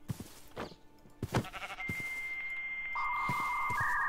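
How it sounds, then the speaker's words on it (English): Sheep in the RLCraft Minecraft modpack bleat a few times after being struck with a rock, the short game bleats sitting over steady electronic beeping tones with no talk. "Beat sheep with rock."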